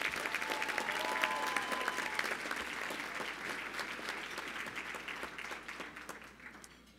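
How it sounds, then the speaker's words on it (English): A large audience at a downtown Marriott community leaders' celebration for Martin Luther King Jr. applauds the hotel service staff, a dense, steady clapping from a crowd that slowly fades, heard from within the room. "let's give a round of applause to the service staff here at the downtown Marriott as well"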